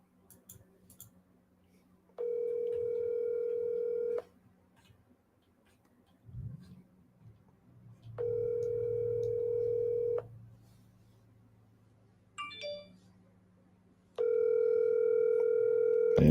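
A landline telephone dial tone sounds in three separate steady bursts of about two seconds each during hand dialing of a cold call, with soft handling noise and brief faint keypad-like chirps in the gaps.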